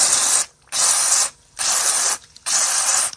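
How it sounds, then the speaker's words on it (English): DeoxIT contact cleaner sprays from an aerosol can onto the ROM contacts of a Mac Plus in four loud, close hissing bursts, each lasting about half a second to a second, with short silent gaps between them. "All right, so we will spray some deox on here."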